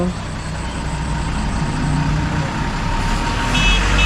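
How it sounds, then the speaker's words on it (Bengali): Heavy traffic on a road after rain, a steady loud engine rumble and tyre roar from large vehicles passing close by, with a brief high beeping near the end. "এই দেখো বড় বড় গাড়িগুলো যাচ্ছে রাস্তা দিয়ে পার হয়ে যাচ্ছে দেখো"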